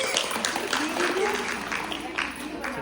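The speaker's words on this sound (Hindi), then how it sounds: "ताली बजाओ अपने लिए।" Schoolchildren in a classroom clap for themselves, a loose burst of applause with voices talking over it.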